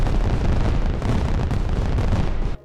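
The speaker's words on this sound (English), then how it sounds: "Let's start this one off with a bang. Fireworks." Dense, rumbling fireworks blasts roll one after another, a heavy low booming barrage with crackling bursts that stays loud throughout before cutting off abruptly.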